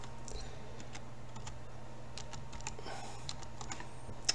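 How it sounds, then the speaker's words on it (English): Rapid clicking of a computer keyboard as an IP address is typed to connect to a Viavi T-Berd 5800 tester, soft close keystrokes over a steady background hum. "All you have to do to connect to the T-Berd is type in the IP address"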